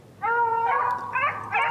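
Beagles on a rabbit chase bay in long, wavering howls, several drawn-out voices overlapping and rising in pitch, carrying clearly from about fifty yards away.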